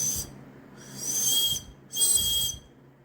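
3D-printed chirping bird whistle being blown in two clear, shrill warbling bursts after a brief opening tone, fairly close and with no talk.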